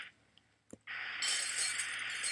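Glass shatters loudly in the Happy Wheels level Glass Break Jet Ball, a sharp impact followed by a sustained bright spray of breaking, tinkling shards with no talking.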